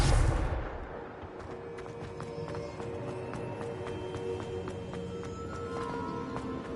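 A Confringo blasting spell is cast in a Harry Potter video game, giving a loud explosive burst at the start that fades into a steady rumbling backdrop of game music and ambience.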